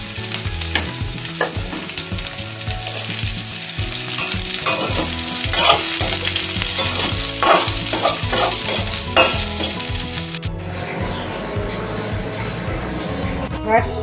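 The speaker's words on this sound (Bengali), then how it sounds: "আবারও সামান্য একদম চা চামচের হাফ চামচ তেল দিয়ে এই বিনসগুলোকেও ভেজে নেব।" Green beans fry in a little oil in a pan while being stirred, a steady close sizzle with scraping stir sounds, and a voice talks over it.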